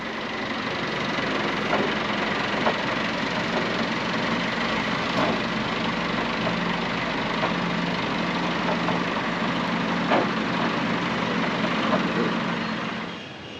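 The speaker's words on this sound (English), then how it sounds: "What we wanted to do was motor over the engines and use that to power the onboard hydraulic pumps" Jet engines of an F-4 Phantom being motored over on the ground give a steady, loud, broadband whirring roar with low rumble that holds constant throughout, with faint ticks and clanks scattered across it.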